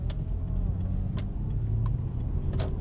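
A Dodge Challenger SRT8 with a V8 engine rumbling steadily nearby as it drives past, a continuous low throaty drone with faint road noise and no talk.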